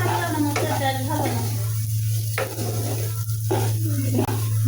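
Lentils (dal) frying in a pan on a stove before going into a pressure cooker, a continuous sizzle with occasional stirring scrapes over a steady low hum.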